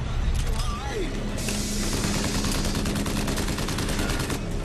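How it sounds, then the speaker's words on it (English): Gunfire in BioShock Infinite, rapid bursts of shots crackling steadily through a dense, loud game soundscape, with someone talking over the action. "Who is shooting me now?"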